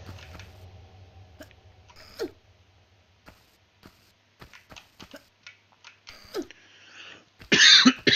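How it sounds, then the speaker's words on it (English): A person coughs in a few sharp bursts, with a loud fit of coughing near the end, between quiet clicks and small mouth noises. "Again, sorry for the coughing."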